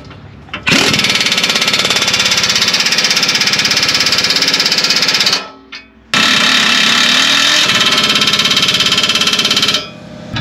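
A loud power tool tightens front suspension bolts on a 2003 GMC Yukon, running in two long sustained bursts of rattling, buzzing impact with a brief pause between, close and without talk.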